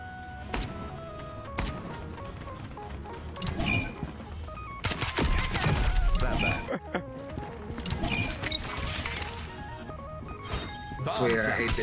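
Shotgun blasts in the game FragPunk, loud sharp reports in bursts amid clinks and other game effects, with a voice talking over parts of the action.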